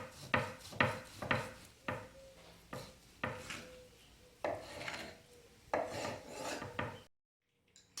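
A knife saws through a smoked rump roast on a wooden board in a series of about eight short, rasping strokes with brief pauses, close and moderately loud, ending in silence.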